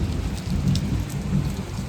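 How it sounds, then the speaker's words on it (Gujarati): Heavy, steady rain pours down in Botad village, with low thunder rolling continuously underneath the dense hiss of falling water. "અવિરત એક ધારો અને વરસાદ ચાલુ છે"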